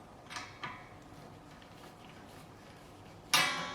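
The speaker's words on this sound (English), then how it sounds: "I'm going to take a screwdriver, I'm going to hit the A string, and I'm going to loosen these claw screws here." A screwdriver works at the tremolo claw screws in the back of an Ibanez RG570 electric guitar, giving a few faint metallic clicks and creaks, then one sharp, bright metallic twang near the end.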